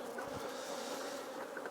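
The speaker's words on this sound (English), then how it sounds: "I don't want to crush all the bees that are on the top of that super" Honey bees drone steadily over the top of a hive super during an inspection, a dense continuous buzz from many insects close by with no talking.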